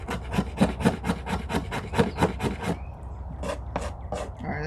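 The back spine of a knife scrapes shavings off a stick of resinous fatwood in a rapid, even series of about a dozen rough, woody rasps, close up, followed by a few slower, scattered strokes.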